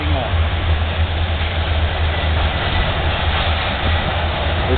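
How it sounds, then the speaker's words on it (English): Several Union Pacific freight locomotives idling at a standstill, a steady low diesel rumble with constant throbbing hum and broadband noise, unbroken throughout. "This train's been sitting since I got here."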